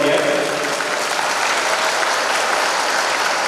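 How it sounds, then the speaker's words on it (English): A crowd at a college graduation ceremony claps steadily and enthusiastically, a dense wash of applause that holds at an even level throughout. "I think a big round of applause to all the parents who are here."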